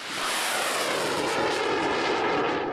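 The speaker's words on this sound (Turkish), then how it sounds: "Bir savaş uçağı alçaktan uçarak gizlenerek geliyor." A fighter jet flies low in an air-attack scenario, a steady, loud broadband roar that holds constant throughout without a break.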